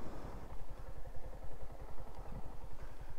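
Yamaha MT-15 motorcycle on a slippery off-road trail, its engine thumping in a fast, rhythmic pulse at moderate distance, steady and fairly quiet with some clatter.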